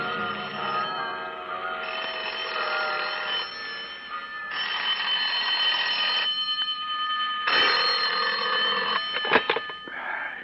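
Bells ringing in a Buddhist temple atop the Mark Hopkins in a vintage radio drama, a dense, sustained metallic ringing with many overlapping tones that swells and pauses over about ten seconds, with no voices.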